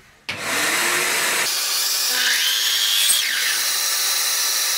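A mitre saw with a radial arm bites through wood, starting abruptly and holding a loud, steady whine with a rising pitch sweep partway through, heard alone and close up.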